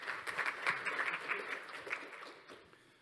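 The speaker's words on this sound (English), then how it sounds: "let's please give him a round of applause and welcome him" Audience applause for a staff software engineer being welcomed onto a conference stage, a dense wash of clapping that is steady at first and then gradually thins and fades toward the end.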